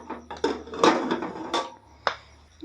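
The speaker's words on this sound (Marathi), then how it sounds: "झाकण उघडून बघायचं।" Pressure cooker lid being opened after several whistles with steam released, cooking udid dal inside: a few sharp metallic clanks and scrapes, close and moderately loud, with no talk.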